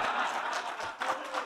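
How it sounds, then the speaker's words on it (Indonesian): Members of a political party in the crowd applaud at an Indonesian ceremony launching village cooperatives: a brief burst of dense, steady clapping, moderately loud and continuous throughout. "Kalau saya sebut gotong royong, yang paling keras tepuk tangan"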